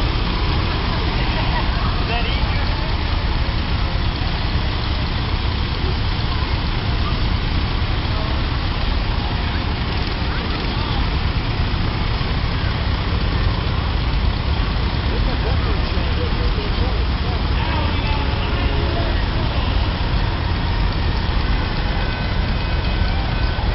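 Steady rumble of idling and passing trucks and tractors in a fall festival parade in Mount Pulaski, Illinois, with engines droning continuously and people talking over the traffic noise.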